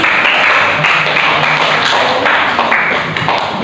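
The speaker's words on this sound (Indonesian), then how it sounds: "Tepuk tangan untuk mereka berdua." A classroom of students claps for two classmates, a loud and close patter of many hands that carries on steadily, with some chatter underneath.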